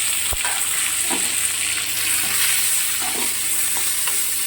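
Chopped tomatoes fry in a pan for bisi bele bath, a steady loud sizzle with occasional faint clinks of stirring, no talking.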